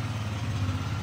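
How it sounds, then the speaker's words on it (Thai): A Royal Alloy 150GP scooter from 2018, a low-mileage machine in original factory red, idles smoothly and quietly with a steady low hum and no voices over it. "เดี๋ยวลองสตาร์ทให้ทางเครื่องยนต์กันนี่เครื่องยนต์เดินนิ่งเงียบนะครับ"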